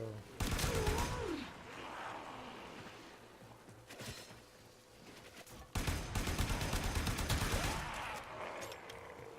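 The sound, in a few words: gunfire in the Warframe video game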